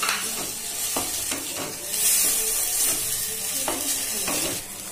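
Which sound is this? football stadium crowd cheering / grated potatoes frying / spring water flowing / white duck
grated potatoes frying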